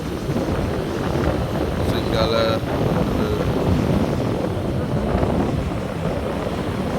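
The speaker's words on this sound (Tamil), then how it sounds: "காற்று வேகம் இன்னும் குறையில. ஸோ அலை நிறையவா இருக்குது." Strong wind roars steadily across a rough sea beach where fishing boats head out, a dense, continuous low rumble of gusts and surf, with someone briefly speaking over it.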